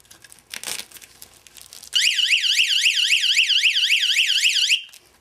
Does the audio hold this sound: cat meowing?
no